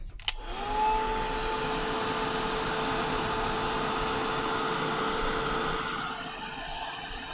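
A handheld heat tool blasts hot air to dry stamped Distress ink on a craft project, switching on with a click and then whirring in a steady loud whine that begins to taper off toward the end.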